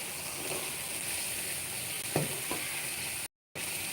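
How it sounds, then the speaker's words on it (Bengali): Diced potatoes sizzling in hot oil as they join a frying jackfruit curry, a strong continuous sizzle with a couple of soft stirring scrapes and a brief dropout of sound near the end. "তো এবার আমি দিয়ে দেবো কেটে রাখা ছোটো করে কেটে রাখা আলুগুলো"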